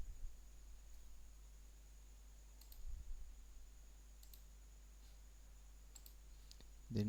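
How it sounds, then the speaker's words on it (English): A computer mouse clicks a few times, small, quiet, isolated clicks spaced a second or more apart over a low hum of room noise. "then double click on that."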